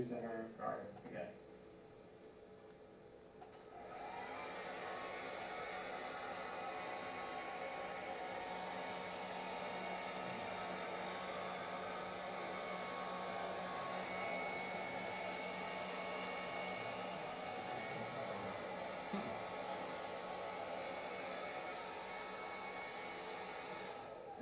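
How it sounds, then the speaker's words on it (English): A hair dryer blows steadily on a lab bench during a clock-synchronisation demo, a loud continuous broadband whoosh starting after a few seconds of quieter room noise and holding level to the end, with faint talk early on. "And then I'm going to use the hair dryer again."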